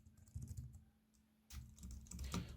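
Typing on a computer keyboard that has been in use for about a year and a half: quiet, uneven bursts of key clicks with a short pause in the middle, then a busier flurry.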